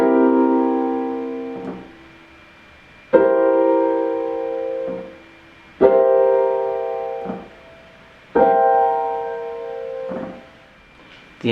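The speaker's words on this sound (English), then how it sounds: "The inversions of this C dominant seventh chord will sound and look like this." Piano plays four successive C dominant seventh chords in different inversions, each struck firmly and left to ring and fade, with a short low note after each chord, evenly spaced and alone.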